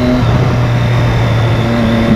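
A Suzuki Hayabusa motorcycle engine drones loud and close, holding a steady, pitched roar under acceleration without any break.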